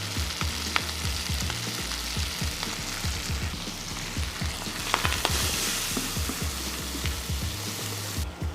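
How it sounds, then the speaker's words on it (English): Corn kernels frying in a hot pan with a sprinkle of steak seasoning, a continuous close sizzle and crackle with scattered pops and occasional stirring scrapes. "I'm gonna go ahead and I'm gonna add my corn into the pan."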